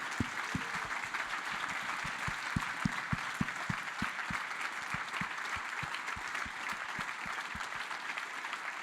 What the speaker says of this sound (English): I think we should all give them a great round of applause for what they've done